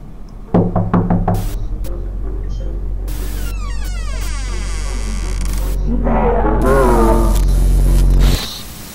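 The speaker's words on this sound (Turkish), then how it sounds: "Knock on the door!" A quick burst of knocks on a door in the video game Amanda the Adventurer opens the clip, followed by game tones and a sweeping effect, loud and close.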